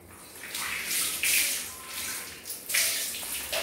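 Water applied to a painting board for wash painting, a soft splashing and washing sound in gentle surges that rise and fall, fairly quiet and close.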